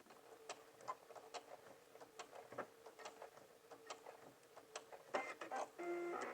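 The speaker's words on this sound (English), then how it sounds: "I'm going to backstitch." A sewing machine backstitches a seam on a lined pencil skirt, with quiet, rapid, regular mechanical ticking that turns into a steadier whirring hum near the end.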